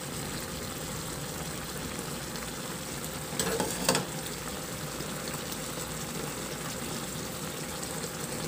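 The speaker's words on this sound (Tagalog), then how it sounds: "Kunting kulo na lang yan para lang din maluto yung sili o maglabas ng aroma" Milkfish paksiw with coconut milk, siling labuyo and green chilies simmers in a pan with a steady, even sizzle and bubbling, rising briefly into a louder burst midway before settling again.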